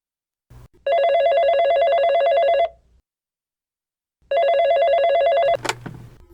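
Old-style telephone bell ringing in two loud, close bursts separated by a short silence, the second cut off by a click as the receiver is picked up.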